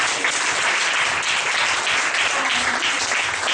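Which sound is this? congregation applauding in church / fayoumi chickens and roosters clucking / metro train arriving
congregation applauding in church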